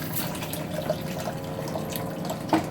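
Water sprays and splashes from a hand sprayer at the toilet of a Class A motorhome, a steady hiss of running water with small drips and clinks, heard close with no speech.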